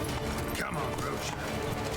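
Roach the horse gallops in The Witcher 3: Wild Hunt's Blood and Wine expansion, sending a steady rapid clip-clop of hooves through a dense, continuous wash of game sound.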